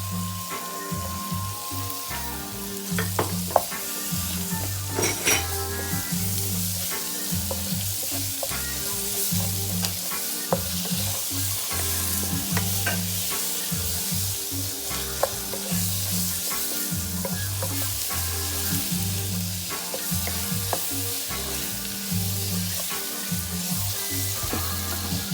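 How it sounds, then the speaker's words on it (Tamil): Chopped tomatoes frying for a Sri Lankan crab curry, a dense, continuous hissing sizzle that stays loud and steady throughout, with occasional faint stirring clatter and no talking. "வெட்டி வச்சா தக்காளியை போட்டுருவோம்."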